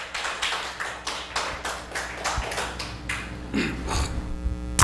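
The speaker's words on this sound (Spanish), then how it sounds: "Denle un aplauso fuerte." A church congregation applauds during a Spanish-language sermon, loud rhythmic group clapping in regular bursts, fairly close and sustained throughout.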